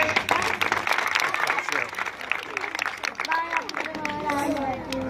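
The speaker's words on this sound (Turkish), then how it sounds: "Hanımefendiye de kocaman bir alkış" Steady applause from an audience fills the clip, dense clapping throughout with some voices and chatter mixed in.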